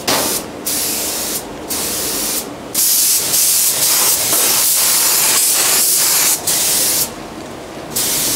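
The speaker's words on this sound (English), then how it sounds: "I'll try not to spray you in the face." A spray gun hisses in several short bursts, then sprays in one long continuous blast that stops and starts again, loud and close.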